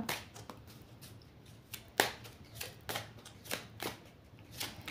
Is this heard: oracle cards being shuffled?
yes